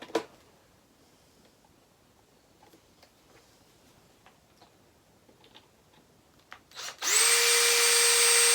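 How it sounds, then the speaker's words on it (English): A power drill spins up loudly near the end to bore a hole into a cigar box guitar, after a long stretch of quiet ticks and small handling noises. "I'll get this one in before I drill that other one."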